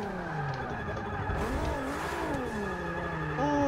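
Forza 6 drifting car driven with a Logitech G920 wheel in online play, engine revving continuously with pitch sweeping up and down as the car slides, loud and steady throughout with no talk.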